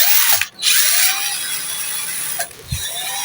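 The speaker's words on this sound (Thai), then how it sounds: "ดอกสว่านขนาดเล็กเราก็จะมาเจาะรูตรงนี้นะครับ" A small drill bit bores a hole through a metal grease gun part for a lawn trimmer gear head, the drill whirring steadily and loudly with two brief pauses and a clunk near the end.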